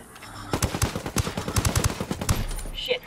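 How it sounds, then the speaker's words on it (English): Rapid bursts of close gunfire from Ghost War crackle in quick, uneven volleys, loud shots dominating with a faint voice underneath. "Shit, taking fire."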